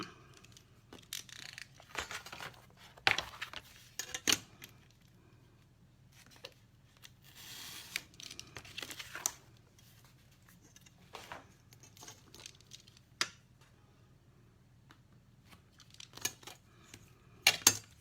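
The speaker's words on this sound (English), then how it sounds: "that's my window frame, and I'll cut that out." Paper is cut with scissors to make a window frame for a little craft house, giving scattered quiet snips and rustles with pauses between them over a faint steady hum.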